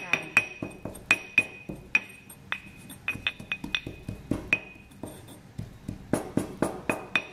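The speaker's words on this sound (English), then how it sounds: "first pound on the soil to get it into some smaller pieces" Wetland soil sample pounded into smaller pieces, giving a close, steady series of sharp hard knocks and clinks in an irregular rhythm with brief pauses.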